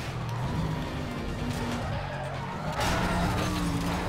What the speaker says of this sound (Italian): ho distrutto un'auto della polizia